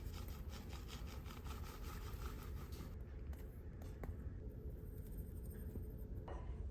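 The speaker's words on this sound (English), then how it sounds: "I like to use a Danish dough whisk to whisk my dry ingredients" A Danish dough whisk stirs dry muffin ingredients in a bowl with a continuous, quiet, close scraping and rubbing that carries on for several seconds without talking.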